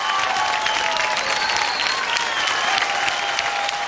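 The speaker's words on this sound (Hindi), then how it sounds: "जोरदार तालियां हो जाए।" Loud, continuous applause from a studio audience at a televised dance competition show, a thick even roar of many hands clapping with no break.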